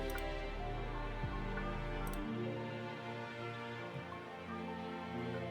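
A synthesized strings section from the Analog Lab software instrument plays sustained, layered chords in a future bass track. Notes shift every second or so, steady and moderately quiet with no voices.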